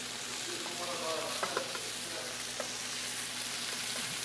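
Beef browning in a pan for boeuf bourguignon, a steady close sizzle and hiss of frying meat with a few faint scrapes of stirring.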